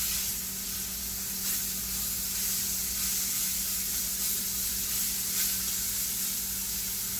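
London broil beef sizzling steadily in a hot cast iron skillet on a stovetop, a loud continuous frying hiss with spitting crackle that holds even throughout, no voices.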